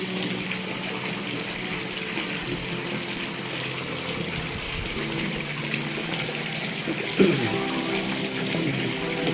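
Water pours and gushes continuously into a concrete duck pond, a dense steady rush with a brief thud partway through.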